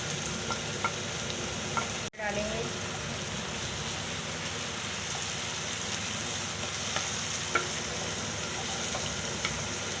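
Chicken and tomatoes fry in a pan with a steady, close sizzle, broken by a sharp clatter as something is added, then continuing with soft stirring sounds; no one speaks.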